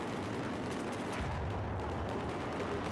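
Dense gunfire in Battlefield 4 on the Operation Locker map during sniper play, a continuous roar of overlapping shots and distant battle noise with no clear individual rifle crack standing out.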